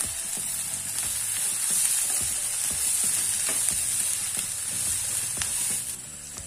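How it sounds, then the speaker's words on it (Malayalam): Ginger, garlic and green chillies frying for a Kerala chicken roast: a loud, steady sizzle close by, with repeated scraping stirs of a spoon against the pan. "ഈയൊരു പാകം ആവുമ്പോൾ നമുക്ക് ഇതിലേക്ക് ഇഞ്ചി വെളുത്തുള്ളി പച്ചമുളക് ഇത് മൂന്നും ഇട്ട് കൊടുക്കാം"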